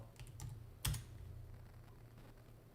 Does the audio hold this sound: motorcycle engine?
no